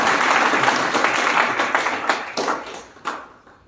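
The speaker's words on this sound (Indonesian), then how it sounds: "Tepuk tangan sekali lagi bagi Yesus." Audience applause at a Sunday church service at a theological college, a burst of clapping that thins into scattered claps and fades out over a few seconds.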